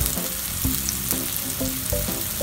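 Ground beef frying in a pan over softened vegetables, a steady close sizzle with a few stirring knocks and clinks of a utensil, no voices.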